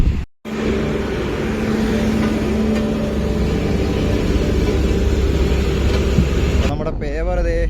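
Heavy asphalt paver working on a national highway service road during tarring, its steady low engine rumble droning close and continuous throughout, with a brief break near the start.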